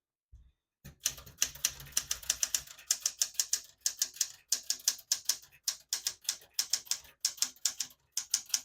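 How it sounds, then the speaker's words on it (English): Rapid mechanical clacks of a 1978 Smith-Corona Galaxie 12 manual portable typewriter, keys struck in quick irregular bursts with short pauses, close and crisp, typing in red ribbon. "I'll type a sentence in red on the next line"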